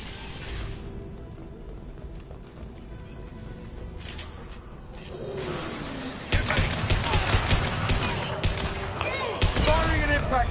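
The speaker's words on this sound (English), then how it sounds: "Firing an impact shot!" Impact shot gunfire in Mass Effect 2, with rapid bursts of shots and cracks building to a loud, dense volley over the second half amid game effects and a voice.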